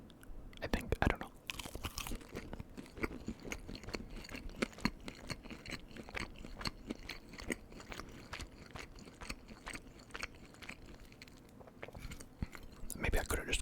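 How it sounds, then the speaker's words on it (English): Bagel bites being eaten up close, with dense crunching and chewing bites repeating steadily throughout, loud and intimate with no talking. "The bagel bites are actually really like a middle ground between the crunch and the chew today compared to what they used to be."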